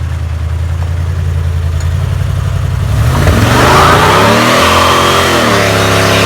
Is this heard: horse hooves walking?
no